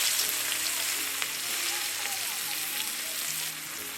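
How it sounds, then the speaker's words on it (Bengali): Chopped onion frying in oil left from frying potatoes, a bright steady sizzle close up with a faint voice underneath, easing slightly toward the end. "এখন এই আলু ভাজা তেলের মধ্যেই দিয়ে দেব পেঁয়াজ কুচি"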